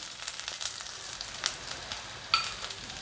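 Fried beans tipped into hot oil where mustard seeds are spluttering, a Tamil-style beans fry: constant close sizzle broken by sharp pops and crackles, with a couple of louder spits, and no speech.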